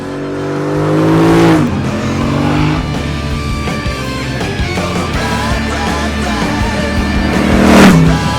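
Twin slash-cut pea-shooter silencers and twin airboxes on a 2017 Triumph Bonneville Bobber motorcycle give a loud, steady exhaust note that rises in pitch, settles into a continuous drone, then swells again near the end.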